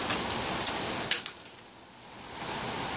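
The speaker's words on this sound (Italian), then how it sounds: "Sentite il rumore della pioggia." Heavy summer downpour at night in the Azza area, a steady dense rain roar with a couple of sharper drop hits near the start that eases slightly midway before swelling again.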